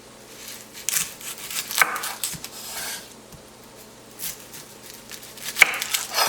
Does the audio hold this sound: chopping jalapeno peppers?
yes